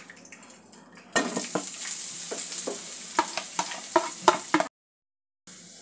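Spices and grated ginger-garlic tempered in hot oil with asafoetida, a dried red chilli and bay leaves hit the pan and sizzle loudly and steadily, with a few sharp clinks of a spoon against the pan before the sound cuts out.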